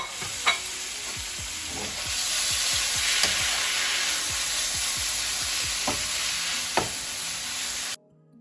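Spaghetti squash stir-fries in a pan with sriracha and stir fry sauce, sizzling loudly and evenly while repeated stirring scrapes tick through it, before the sound cuts off abruptly near the end.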